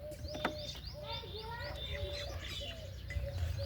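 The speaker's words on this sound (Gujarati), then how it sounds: "આપણે આ બધા કબૂતર હોય બેઠા છે." Pigeons housed in a backyard setup give repeated soft, throaty coos close by, while bright chirps and a faint flutter of wings sound around them, all at low volume.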